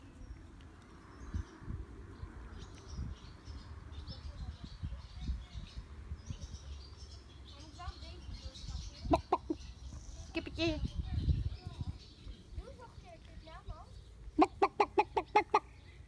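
A chicken clucks in short bursts amid low rumbling and muffled voices, ending with a rapid series of sharp clucks close by.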